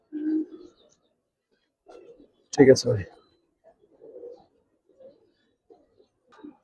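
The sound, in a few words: pigeons cooing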